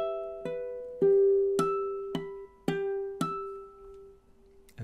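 Ukulele plucking the closing two measures of a Hawaiian tune, notes struck one at a time in a slow steady pulse over a held chord and left ringing, close and clear with no voice.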